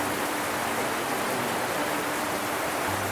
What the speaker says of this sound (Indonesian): kita diberi hujan yang alhamdulillah lah dingin